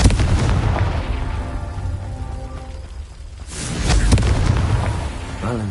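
Confringo blasting spell in the video game Hogwarts Legacy: a loud explosive boom and rumble fade, then a second crackling blast close up.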